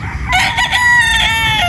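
A possum gamefowl rooster at a game farm crows loudly and close by in one sustained, strident call lasting over a second, with no talk over it.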